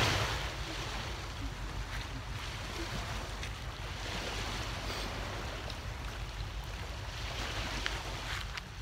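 Ocean waves wash steadily onto a beach, a continuous low rushing surf with some wind rumble, heard alone without talk.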